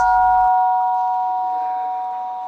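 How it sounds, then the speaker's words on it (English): A monastery gong rings once to call monks to breakfast, its steady, ringing tone sustaining and slowly fading while a low rumble cuts off after a moment. "When the monks heard the gong, they went up to line up for the breakfast."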